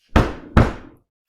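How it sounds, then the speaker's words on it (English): Two heavy knocks strike a wooden door in steady succession, loud and close with short ringing decay after each, then silence. "he came up to the house of the children and knocked on the door twice"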